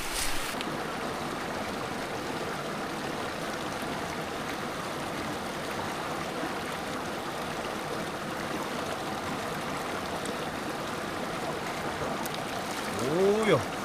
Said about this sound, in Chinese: 我看路边这个小溪，溪水非常清澈